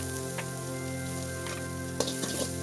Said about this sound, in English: Saute for a minute and add green chilies as per your taste.